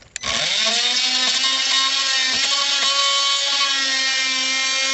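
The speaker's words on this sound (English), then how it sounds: "take that oscillating saw and flatten out the bottom with it, kind of like wood carving, but you're plastic carving" A power tool starts with a sharp click, then an oscillating saw runs at a steady, loud, buzzing pitch while flattening the plastic base of a DeWalt DCL077 compact task light, close and continuous with no talking.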